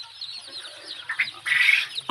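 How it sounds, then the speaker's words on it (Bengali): Tiger breed chicks on a farm cheep and cluck in a busy flock, a dense layer of high chirps that swells louder near the end, close by with no talk. "এটা হচ্ছে টাইগার মুরগির বাচ্চা।"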